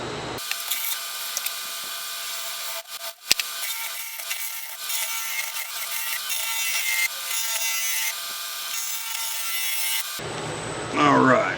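A wood lathe spins at roughly 1350 RPM while turning a dogwood live-edge pot, giving a steady, loud, continuous cutting and scraping whine. It runs through nearly the whole stretch and stops near the end.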